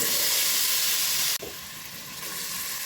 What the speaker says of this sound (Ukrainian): Обсмажую приблизно 3-4 хвилинки на середньому вогні до м'якості